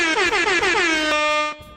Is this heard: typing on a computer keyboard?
no